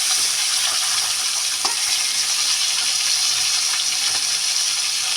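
Fish sizzles steadily in a pan with spices over a low gas flame, a continuous hissing fry with faint crackles and occasional light pops, close and with no talking.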